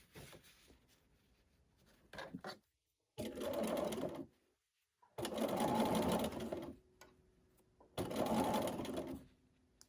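Sewing machine stitching curved quilt fabric pieces for Christmas tree blocks, running in three loud sustained bursts separated by short pauses, with softer handling noises and faint quiet stretches between.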